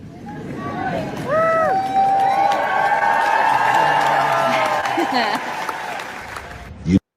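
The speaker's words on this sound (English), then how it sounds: "The entire crowd goes crazy when the crowd should be quiet" A large crowd bursts into loud, sustained applause and cheering for Kate at a sports awards ceremony, with a voice speaking over the roar before it cuts off.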